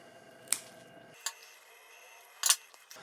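Snips cut a basil stem just above a leaf node, three short, crisp clicks spaced across a quiet, close-up background.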